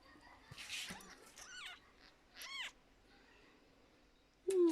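A young kitten mews several times: short, high, wavering cries close by, spaced with quiet pauses, ending in a louder sharp call.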